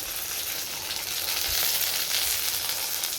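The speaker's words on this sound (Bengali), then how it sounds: "মাছটা ভাজা হচ্ছে" Fish frying in a pan, a steady close sizzle with crackling spatter that holds for the whole moment with no voices over it.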